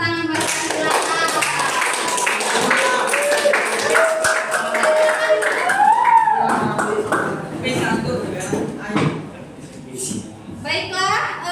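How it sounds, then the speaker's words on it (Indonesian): Classroom applause from students, a dense patter of clapping mixed with voices and some shouting that thins out toward the end. "Oke, tepuk tangan buat silakan."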